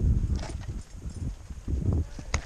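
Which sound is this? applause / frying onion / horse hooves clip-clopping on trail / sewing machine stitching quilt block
horse hooves clip-clopping on trail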